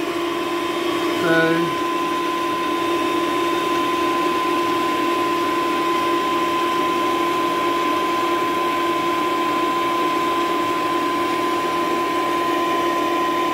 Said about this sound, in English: And the air conditioner's still kicking.